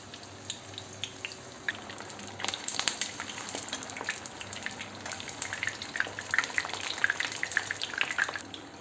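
Steady crackling and sizzling of eggplant frying in hot oil, with dense popping spatters that grow busier toward the end; no voices.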